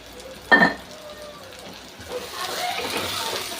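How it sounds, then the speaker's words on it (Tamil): Tomatoes sautéing in a pan for a fish-style curry made without fish, with curry leaves and salt added; a brief clatter is followed by a quiet stretch, then a steady sizzling hiss builds and holds. "இந்த தக்காளியும் நல்லா வதங்கணும்"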